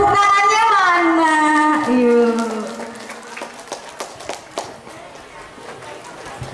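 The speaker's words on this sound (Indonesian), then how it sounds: "Tepuk tangannya mana?" Children at a Quran memorisation gathering at an Islamic school clap their hands in scattered, uneven claps after a voice speaks, and the claps are moderately loud and come in short clusters.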